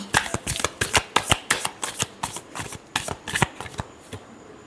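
Tarot cards being shuffled by hand, a rapid run of about twenty crisp riffling snaps in an uneven rhythm, close and clear with no talk, tapering off near the end.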